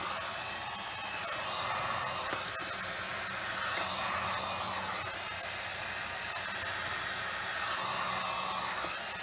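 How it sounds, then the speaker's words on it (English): A heat gun blows a steady, close, continuous airflow hiss while softening old glue beneath the pickguard of an older acoustic guitar, with no speech. "So I'm heating this slowly, working my way around this corner here."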